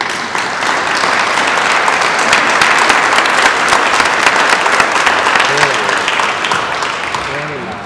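An audience applauds at a credit union recognition ceremony for North Park Community Credit Union: dense, sustained clapping that swells and holds for several seconds, then tapers, with a few faint voices near the end.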